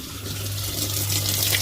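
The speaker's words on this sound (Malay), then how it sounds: "Air keluar laju." Water flows steadily into a washing machine through an inlet valve whose torn 27mm diaphragm was repaired with glue, a continuous close rushing stream with no talk over it.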